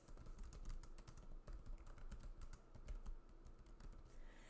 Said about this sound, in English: I'm typing in here to create my copy for this post for Pinterest